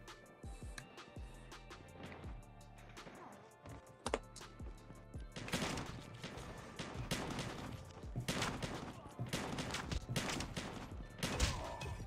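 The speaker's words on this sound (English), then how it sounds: "you just hear the shots everywhere" Gunfire from all around in the mobile shooter Call of Duty: Mobile, with shotgun blasts and rapid shots cracking repeatedly, some close and loud, others farther off, in dense overlapping bursts throughout with background game sounds.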